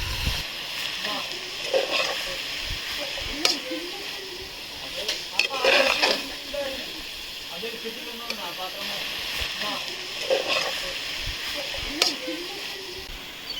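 Onions and masala fry in a pan with a soft sizzle, broken by scraping stirs and small splatters. A person talks at times over the cooking.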